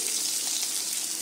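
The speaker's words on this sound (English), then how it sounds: "Now I am pouring this turmeric salt water here" Turmeric and salt water pours into a cooking pan for Bengali fish curry, with cumin seeds already added, giving a steady, close gushing splash that runs without a break through the short moment.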